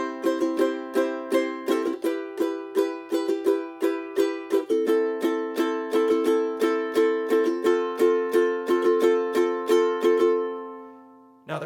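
A ukulele plays a steady strumming pattern with quick down-up pairs on beats four and eight. Crisp, even chords ring closely and alone, stop near the end, then one last short strum follows.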